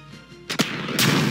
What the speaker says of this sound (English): And there's a flare gunshot.